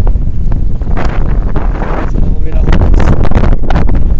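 Strong wind buffets the microphone during solo fishing, a loud, continuous low roar with gusty surges. A voice speaks underneath it.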